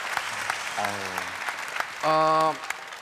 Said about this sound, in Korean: 박수 일단 한번 부탁드릴까요?